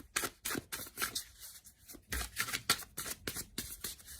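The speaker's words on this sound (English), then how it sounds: "let's give the cards a good shuffle" A deck of tarot cards is shuffled close by, giving quick, crisp riffling snaps in irregular bursts with short pauses between them.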